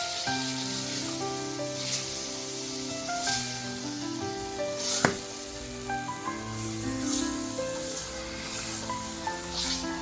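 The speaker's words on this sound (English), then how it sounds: "you let it fry for a bit" Onions and meat frying in a potjie pot, a steady hiss and sizzle with bright crackles and pops, under a continuous tonal hum, fairly loud and close.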